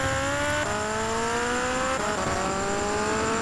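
A car drives along in GTA Vice City, its engine holding a steady loud drone with pitch climbing in two stretches as it accelerates and shifts, with a faint hint of tire noise and no talking.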